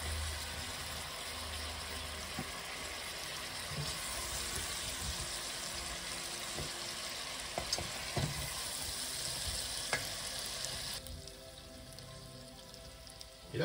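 Potatoes browning in a frying pan for pommes fondantes served with a herbed pork chop give a soft, quiet, continuous sizzle with scattered faint pops, thinning out near the end.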